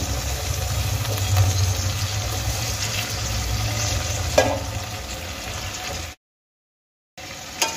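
Pre-fried potatoes tipped into hot spiced oil for winter aloo dum, giving a steady close sizzle and frying hiss with a low hum, one brief clatter near the middle, then a short silent gap before the sizzling returns.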